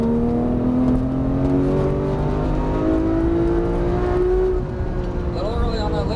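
Porsche 991 GT3 engine pulling hard on a race track at Auto Club, a loud steady rising drone heard from inside the car as revs climb, then a brief dip with a shift before building again.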